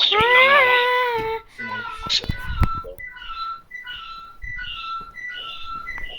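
In the video game Roblox, a voice sings and exclaims briefly, then a repeated high whistled two-note figure sounds several times in a steady pattern, fairly close.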